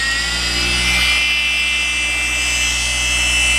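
A cordless polisher with a blue pad runs steadily at speed 4, giving a loud continuous motor hum with a steady whine throughout, no voices.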